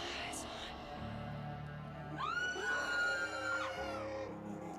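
A loud scream sound effect, triggered by a donation during a live stream, rises in the middle and holds for about two seconds as a long wavering cry over a busy background.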